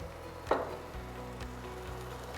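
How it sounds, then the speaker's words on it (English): Blended tomato hitting a hot pan for vegetarian arrabbiata pasta sauce, a brief sharp sizzle burst near the start that settles into a steady low frying hiss, close and moderately loud, with no talking. "it's when you add the blended tomato"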